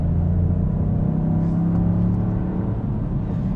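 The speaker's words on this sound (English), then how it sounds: "Gee, that does sound rowdy. It does, doesn't it? It's a great engine note." A 2020 Toyota GR Yaris engine revs with a deep, steady rumble and throaty growl, close by and loud, no voices.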